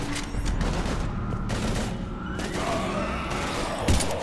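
Heavy bursts of gunfire during the Earth prologue of Mass Effect 3 LE, with loud overlapping shots and a deep thump near the end, no talk over it.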